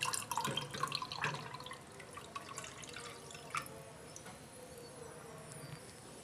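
Orange juice being poured from a glass into a pan while making orange jam, a quiet liquid trickle and dripping, strongest in the first two seconds, then fading to faint splashes over low background hum.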